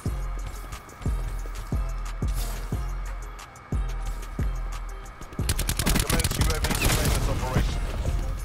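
Video game gunfire in a Black Ops 4 match: rhythmic single shots give way to a dense burst of rapid automatic fire, loud and close, with in-game voices underneath.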